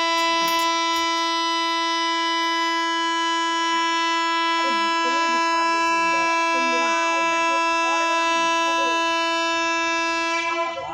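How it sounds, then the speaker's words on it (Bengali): The Darjeeling Mail train at Haldibari sounds one long, loud, unbroken horn blast from close by before it departs, with a faint voice barely audible beneath it. "হর্ন দিচ্ছে, ট্রেনটা ছাড়বে, হর্ন দিচ্ছে"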